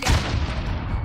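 Frag grenade blast in the shooter game Warzone, a single heavy boom at close range with a deep low rumble that fades over about a second, no voices.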